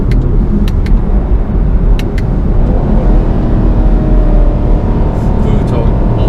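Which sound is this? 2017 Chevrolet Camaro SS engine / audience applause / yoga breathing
2017 Chevrolet Camaro SS engine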